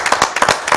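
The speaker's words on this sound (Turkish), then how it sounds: "İlhan Altın'ı alkışlıyoruz" Studio audience applauding on a Turkish television show, a short burst of brisk clapping pulsing in quick waves.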